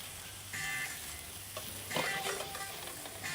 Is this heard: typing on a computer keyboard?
no